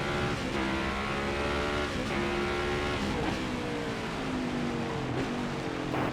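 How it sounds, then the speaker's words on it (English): A next-gen stock car in NASCAR Heat 5 roars steadily as the engine climbs and drops through the gears around a short track, with repeated rising and falling revs and no talking, loud and continuous throughout. "let you guys listen to me going up and down through the gears for about half a lap"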